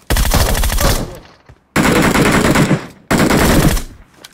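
Gunfire in a shooting video game comes in three loud, close bursts of rapid shots, each about a second long and separated by short pauses.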